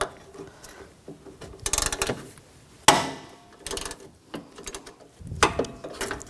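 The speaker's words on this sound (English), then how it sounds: "Using a 10mm socket, loosen these bolts up." A 10mm socket loosening bolts on an AC condenser of a 2004-2009 Toyota Prius: close metallic ratcheting clicks and clanks in irregular bursts, with sharp knocks between quieter pauses and no talk.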